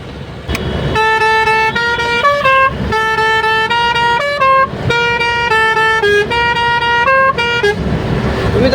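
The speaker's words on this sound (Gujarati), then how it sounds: "કયો હોરન છે કોમેન્ટ કરજો મિત્રો" A loud truck horn blares nearby on a large truck on the Delhi–Mumbai Expressway, playing a musical tune of sustained notes. The melodic phrase repeats several times in a steady rhythm.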